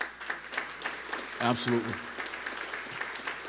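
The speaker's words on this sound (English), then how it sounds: "So give yourselves a round of applause." Audience members give themselves a round of applause at a self-improvement talk, steady clapping throughout with a brief spoken word from the presenter over it.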